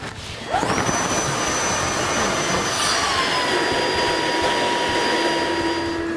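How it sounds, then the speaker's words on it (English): A battery-powered Jet Force avalanche airbag inflates with a sudden loud whoosh, then a sustained, steady fan-driven roar with a high whine that continues unbroken to the end. The sound is close and isolated. "So this Avi bag will continue inflating, so then that way as you're going down the slope, it keeps putting air in."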